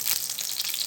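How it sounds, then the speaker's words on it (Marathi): Oil hitting a hot pan gives a bright, hissing sizzle that stays steady and close through the short moment, with no voices. "तर तेल घालते"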